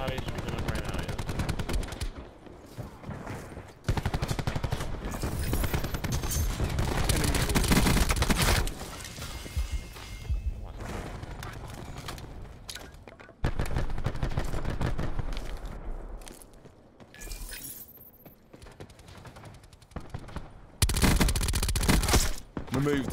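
Bursts of rapid automatic gunfire from a Call of Duty Black Ops 4 multiplayer match, loud and close, broken by short pauses and mixed with game effects, while players talk over it.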